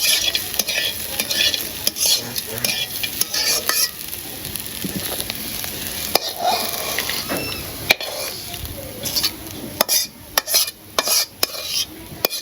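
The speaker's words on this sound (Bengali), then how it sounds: "তো এই যে আলু আর করলা ভাজি হয়ে গেছে" Potatoes and bitter gourd frying in a pan, with steady sizzling and scraping stirs that clatter irregularly throughout, fairly close and with no talk over it.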